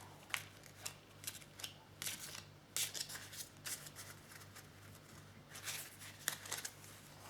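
Oracle cards are riffled and shuffled close by, giving a steady string of crisp papery flicks and slides over a faint low hum, with no speech over the shuffling.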